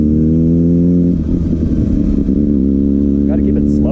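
A Kawasaki ZX6R motorcycle engine idles and rumbles up close during slow riding practice, starting as a steady even hum, then turning rougher and uneven, with a rider talking over it.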